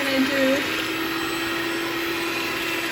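Electric hand mixer whipping egg whites for chile relleno batter, a steady loud motor whir with a brief wobble in pitch at the start, then a constant drone throughout.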